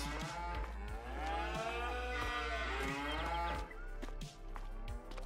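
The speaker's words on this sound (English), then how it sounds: "Hello, moo cows." Cows moo in the farming video game Farming Simulator 22, one long loud drawn-out bellow close up over a steady low hum, with faint rhythmic thumps.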